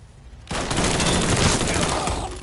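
Sustained burst of automatic gunfire in the video game Mafia 3, loud and dense, erupting after a half-second of quiet and continuing steadily to the end.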